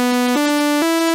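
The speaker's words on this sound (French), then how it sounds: "et les ondes en dents de scie qui génèrent énormément d'harmoniques." Bright buzzy sawtooth-wave tone from a synthesizer oscillator, rich in harmonics, stepping up in pitch twice across three sustained notes, loud and alone with no voice.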